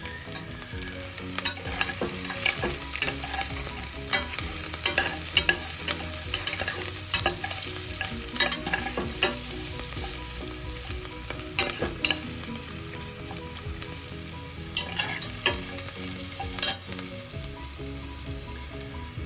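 Onions sizzling in a pan for a soya potato pulav, a steady hiss broken by frequent scraping and clattering of a spoon stirring.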